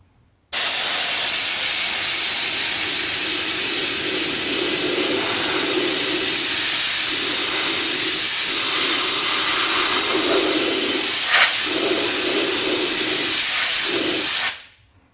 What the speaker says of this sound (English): So I'm going to spray this little section right here